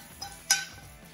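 Roasted dry fruits being mixed in a metal kadhai while making semolina halwa, two brief metallic clinks of a utensil against the pan, the second louder, in an otherwise quiet kitchen.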